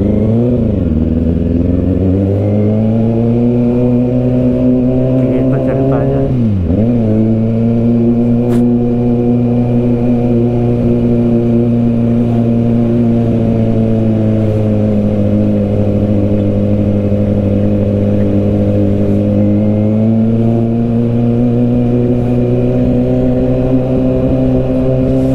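A Kawasaki Ninja ZX6R motorcycle engine hums steadily while riding, with a smooth sustained drone that dips briefly as the revs shift, loud and close throughout with no talking.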